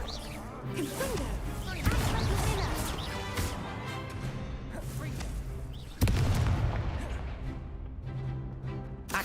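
Confringo explosive spell blasts in the Hogwarts Legacy video game, two loud booming hits with crackling debris amid dense combat effects and game music, with no talk over them.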